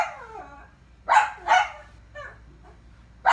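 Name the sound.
dogs barking in the background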